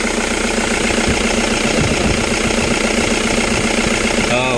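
A Toyota Innova engine idles loudly and steadily right up close, with an even, rumbling, slightly knocking rhythm throughout.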